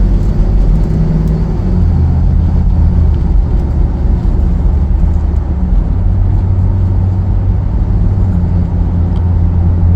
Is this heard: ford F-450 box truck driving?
yes